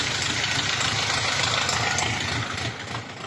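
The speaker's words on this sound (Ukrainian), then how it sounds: "Ось тут трактор їде." Tractor engine running steadily while pulling a potato digger through a field, a dense, close mechanical rumble that eases slightly toward the end.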